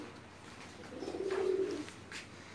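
A Pakistani pigeon gives one soft, rising coo that swells and fades over about a second, heard fairly close against a quiet background without speech.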